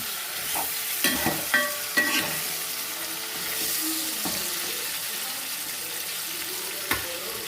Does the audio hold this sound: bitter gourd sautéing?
yes